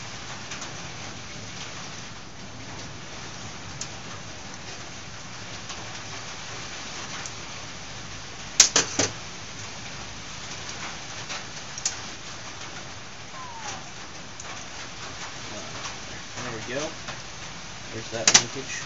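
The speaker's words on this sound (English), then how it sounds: "when it's pouring down rain" Steady rain drumming down continuously, a dense hiss with scattered louder drips and a couple of sharp knocks partway through.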